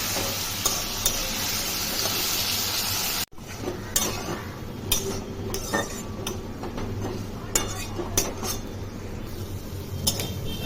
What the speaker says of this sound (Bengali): চিংড়ি মাছটাকে আমরা ভেজে নেব